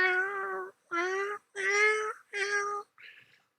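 Cats in a video game meow one after another: four long, clear, drawn-out calls with short pauses between them, then a fainter fifth, with no talking over them.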